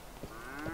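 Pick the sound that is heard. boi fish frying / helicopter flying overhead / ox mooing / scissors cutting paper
ox mooing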